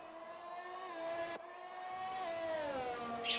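A race car engine from an F1 racing video game, heard as a steady high-pitched whine that climbs and dips through gear changes on an out lap, fairly quiet and with no talk over it.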